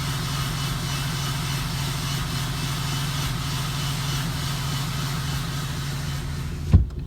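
A 2017 Cummins 6.7 diesel engine with its emissions fully deleted runs steadily close by, giving a loud, even idle rumble with a constant turbo whine, then a brief sharp knock near the end.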